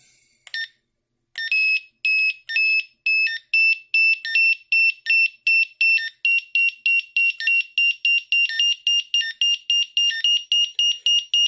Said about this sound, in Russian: хочу показать, как звучит вариометр на подъеме